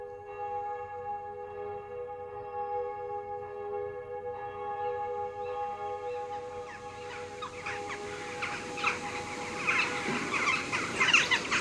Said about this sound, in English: the first sounds I heard were not birds, but the bells of Aldeburgh Parish Church